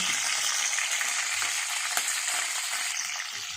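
Seafood curry ingredients frying in a pan, a steady broadband sizzle held at an even level throughout, close and continuous with no voices.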